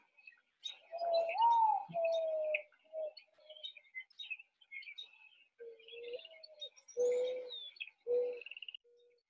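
A dove coos in soft, low, mournful notes, several drawn-out calls in sequence, with other small birds chirping and tweeting faintly in the background and no speech.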